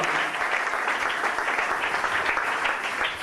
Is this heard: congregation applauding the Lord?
yes